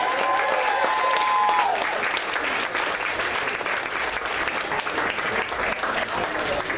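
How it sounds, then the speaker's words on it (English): Steady audience applause at a political meet-and-greet with Beto inside a brewery, filling the room evenly for several seconds, with a brief tone and murmuring voices near the start. "can we get a big round of applause and thanks for our hosts here at 9 Band this evening?"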